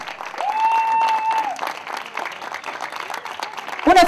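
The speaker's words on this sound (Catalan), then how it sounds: "Un fort aplaudiment, sisplau," Brief burst of clapping from a crowd honoring the women runners at a Valldoreix 5-mile race ceremony, with an amplified voice and a sharp feedback tone over it.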